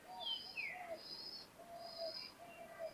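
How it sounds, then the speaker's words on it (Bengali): Pakistani teddy pigeons call inside a loft, giving faint, repeated soft coos and short tonal notes spaced through a quiet background. "এক পেয়ার টেডি কবুতর আছে"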